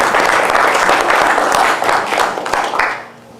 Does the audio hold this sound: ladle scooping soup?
no